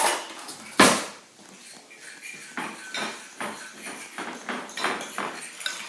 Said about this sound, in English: get yourself a fork, and just fluff it up